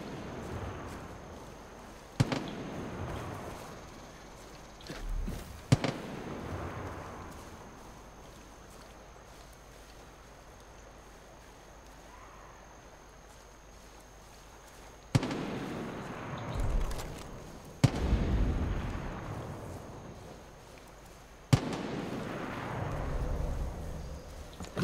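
Distant gunfire in the open world of the video game Far Cry 5, a few separate sharp cracks and bursts with rumbling tails spaced across a quiet stretch of low ambience, with long calm gaps between.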